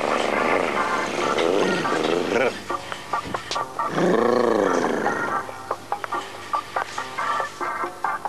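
A tiger roars loudly in a Kellogg's Frosties cereal advert, two long, swelling growls over a dense soundtrack, broken up by sharp percussive hits.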